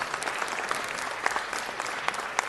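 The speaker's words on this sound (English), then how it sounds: "Let's give them a round of applause" At a city council meeting, the audience applauds a boys wrestling team with a dense, moderately loud round of clapping, scattered sharper individual claps popping through the steady wash.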